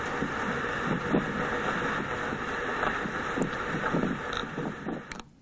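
Rough wind and rain buffet the microphone with a constant rushing roar, broken by scattered taps and creaks.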